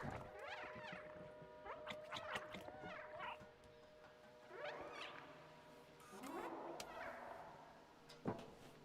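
A cat in the video game Stray gives a series of soft, quiet meows and mewls scattered across the stretch, with faint game ambience underneath.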